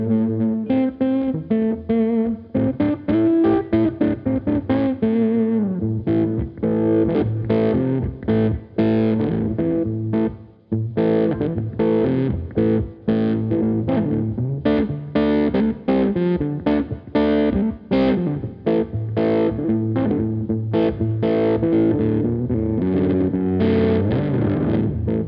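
A Hartwood Charger electric guitar played through heavy distortion, rock riffs and chords sustained loud and close for the whole stretch, with no talk.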